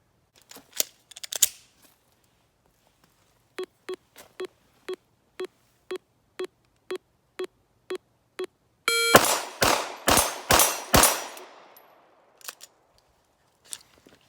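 Shots fired during dry-fire trigger training with a Mantis X10 Elite, heard as a steady string of about ten sharp, evenly spaced clicks or beeps at a half-second cadence, then a louder burst of several crisp clacks.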